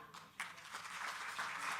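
Audience at a Delhi health mission event applauding to welcome the chief minister, a steady wash of distant clapping rising after a short gap and continuing at moderate, even loudness.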